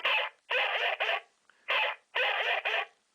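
Short, raspy electronic dog-like yaps from a toy, in three quick pairs of bursts with brief pauses between, close and fairly loud.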